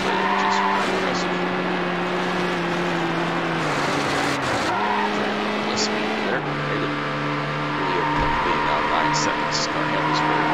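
Race car engine revving and shifting through gears with tire squeal, driving a Gen 2 Dodge Viper GTS in the video game Need For Speed Hot Pursuit 2; loud, continuous engine whine rising and dropping between shifts, no talk.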